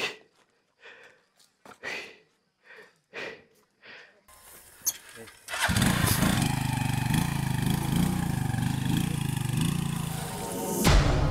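A parked motorcycle used for hauling vegetables starts up and idles, a steady mid-pitched engine drone that follows a run of short, separate sounds and continues loud and close to the end.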